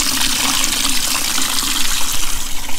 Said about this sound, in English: a little bit of soap, a little bit of purple power, and a whole bunch of water, try to get it all sprayed around